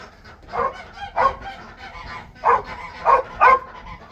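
A dog barks in five or six sharp, separate bursts while chasing starlings out of a farm building, moderately close, with quiet background between barks.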